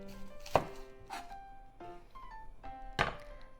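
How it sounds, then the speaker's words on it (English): A knife cuts the top and bottom off an onion on a cutting board, a few distinct close thunks spaced about a second apart, with quiet clatter between them in a home kitchen. "So onion. Cut the top and the bottom off."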